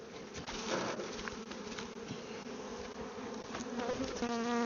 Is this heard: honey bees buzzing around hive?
yes